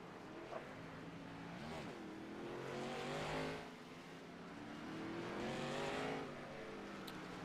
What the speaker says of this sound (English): So cars on the racetrack.